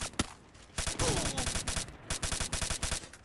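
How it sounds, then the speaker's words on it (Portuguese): Gunfire in the mobile battle royale game Free Fire, a quick single shot followed by rapid bursts of automatic fire, sharp and close with short pauses between volleys. "Tem alguém dando tiro."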